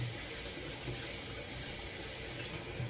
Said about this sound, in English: So I rinsed the fork. Cleaned the fork.